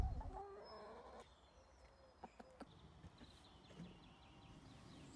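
Chickens cluck softly at a distance in a quiet outdoor setting, with a few brief knocks and scattered faint bird calls.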